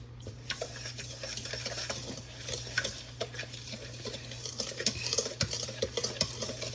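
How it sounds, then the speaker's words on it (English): A whisk clatters steadily against a bowl while cookie ingredients are mixed, a brisk, rhythmic scraping and tapping close by with no talk. "Whisk."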